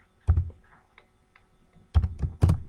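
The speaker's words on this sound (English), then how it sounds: "Now I'm gonna type in" Keystrokes on a computer keyboard while a question is entered into a website, heard as a few separated clusters of close, crisp taps with short pauses between bursts.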